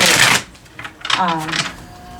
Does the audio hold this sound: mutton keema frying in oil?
no